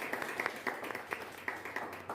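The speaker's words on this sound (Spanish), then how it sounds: "Un fuerte aplauso para él, por favor." Audience at a university youth panel event applauding a guest lecturer, a faint, thin spatter of scattered handclaps heard from a distance in a large room.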